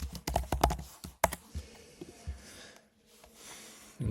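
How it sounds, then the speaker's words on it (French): Someone types on a computer keyboard nearby, a quick run of sharp key clicks followed by sparser, quieter taps against a soft room background. "je crois qu'on entend pas mal mon clavier"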